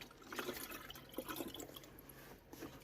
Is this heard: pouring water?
yes